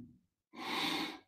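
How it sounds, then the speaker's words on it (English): A single close, audible breath: a short faint exhale, a brief pause, then a long airy inhale or exhale lasting under a second. "breathing."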